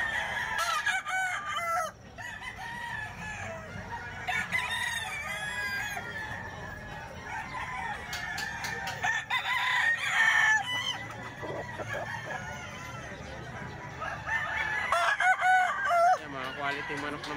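Nine-month-old roosters crow repeatedly and hens cluck close by, their calls rising and overlapping throughout, with someone talking intermittently among them.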